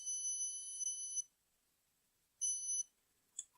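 Two steady electronic beeps from a digital multimeter on its continuity setting, the first lasting over a second and the second shorter after a pause, followed by a faint tick, heard close in a quiet room with no talking.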